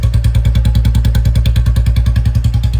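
Royal Enfield Bullet fitted with a loud silencer and bend pipe idling without any revving, a loud, close, steady and evenly spaced thumping exhaust beat that runs throughout.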